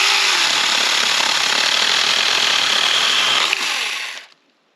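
A small chainsaw limbing a tree runs at a steady high whine for several seconds, loud and close, then cuts off and winds down to silence near the end.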